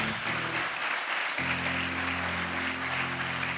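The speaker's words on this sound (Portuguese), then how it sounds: "Você pode aplaudir a Jesus?" A church congregation applauds in a soft, continuous wash of clapping, while steady organ or keyboard chords sustain beneath, breaking briefly and then resuming.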